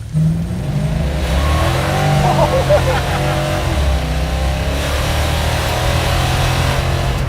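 A junkyard-rescued Plymouth 'Cuda fitted with nitrous oxide accelerates on a test ride, its mid-pitched engine droning and revving loud and close from inside the car, with some talking in the cabin.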